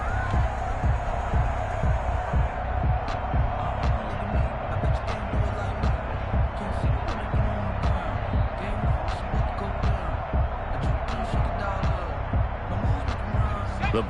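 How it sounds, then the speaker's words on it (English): A crowd on the sidelines of a PS4 American football game claps in a steady, rhythmic pattern, with a constant dense roar of stadium noise underneath. "That's why you hear that clapping on the sidelines, right?"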